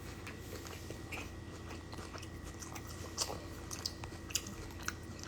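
Someone chews food close to the microphone, a steady run of soft wet bites and mouth noises with occasional sharper crunchy clicks over a low background hum.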